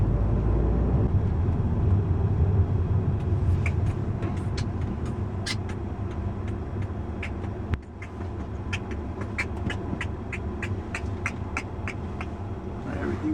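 2011 Audi A3 engine fitted with a K&N cold air intake, idling with a steady low rumble, then blipped in a run of quick, sharp revs with short gaps, close and fairly loud.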